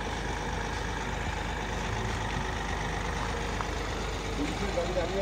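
A police vehicle stands idling at night outside a house, its engine giving a steady low rumble that holds evenly throughout with no pauses.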